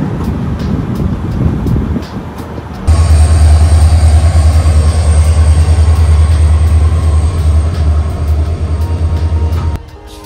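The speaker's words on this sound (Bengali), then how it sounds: "ট্রেন একদম কারেক্ট টাইম রাত 8টা 15 মিনিটে ডিব্রুগড় থেকে ছেড়ে দিল" Kamrup Express pulling out of Dibrugarh at night: after quieter rumbling, a loud steady low engine drone with a high whine starts and holds, over continuous wheel and carriage rumble, close and sustained.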